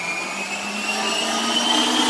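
A kitchen blender runs at full speed with its lid closed, giving a steady, loud motor whine that holds constant from start to finish, with no talking over it.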